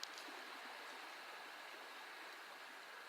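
A creek flows through a canopy of trees about twenty yards away, giving a faint, steady, even hiss of running water with no other sounds.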